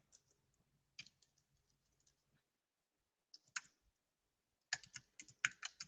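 Keys clatter on a computer keyboard in short, irregular bursts of quick clicks separated by quiet pauses, with the fastest run of keystrokes near the end; close and light, with no talking.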